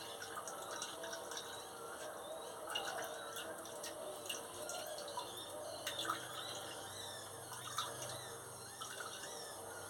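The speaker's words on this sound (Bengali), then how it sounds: "ছেঁকে নিলে এইগুলো বিচাগুলো, এইগুলো মাছগুলো বেরিয়ে গেল। ভালো করে এটাকে ছাঁকতে হবে।" Bael fruit juice for sherbet is strained through a strainer, giving a faint, steady trickle and drip of liquid with small scattered splashes and no talking.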